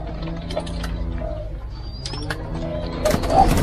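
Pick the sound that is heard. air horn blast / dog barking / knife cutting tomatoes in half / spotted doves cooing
spotted doves cooing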